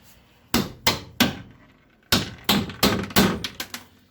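A hammer bangs screws to snap them off while building a dog bed for a Polaris RZR, giving about ten sharp, loud metallic blows in two quick bursts, close up with no talk.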